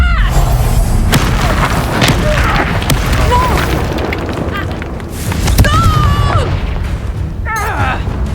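A Confringo blasting spell bursts in Hogwarts Legacy with a loud, booming explosion and rumbling crashes, layered with a dense, continuous roar of other game effects.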